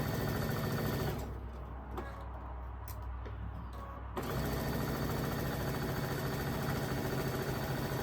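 A sewing machine stitches quilt pieces with a loud, steady mechanical whir, pauses for about three seconds, then runs again at full speed. It is close by and no one speaks.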